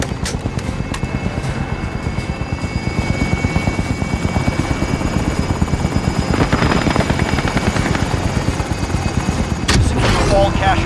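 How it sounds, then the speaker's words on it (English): Attack helicopter in a first-person shooter game, its rotor thumping loud and steady throughout, with an engine drone and a brief burst of noise near the end. "Enemy attack chopper is in the AO."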